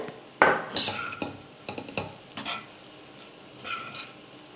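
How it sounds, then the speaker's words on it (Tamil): A spoon stirs rice with finely chopped coriander in a pan, scraping and clinking in irregular strokes with a faint sizzle underneath, close and moderately loud. "அதையும் சேர்த்துட்டு கலந்துக்கிறேன்"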